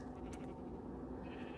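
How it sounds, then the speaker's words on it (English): Sheep bleating in the video game Minecraft, a steady game-audio bleat sitting over a constant low background hum, with no talk over it. "now let's go shear off these sheep"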